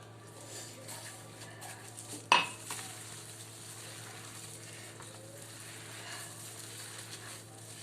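Chapli kabab mixture being mixed with corn flour in a large wide pan, soft continuous stirring and squishing with one sharp clank of a utensil against the metal partway through.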